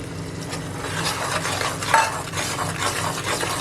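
A spoon stirs lemon juice into sugar syrup for homemade chilli candy, giving steady scraping and swishing against the pan, with one brief clink near the middle and no voices.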